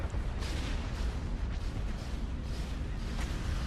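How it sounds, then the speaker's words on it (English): Explosions and weapons fire in the space strategy game Star Wars: Empire at War Forces of Corruption, a dense, continuous barrage of rumbling booms and bursts with no pauses, loud and steady throughout. "That is what I needed to see blown the hell up."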